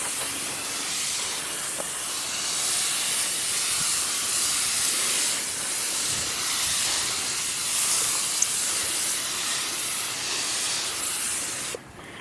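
A spray gun lays down 2K Rust-Oleum paint in a steady, close, breathy hiss that runs unbroken for several seconds before cutting off abruptly.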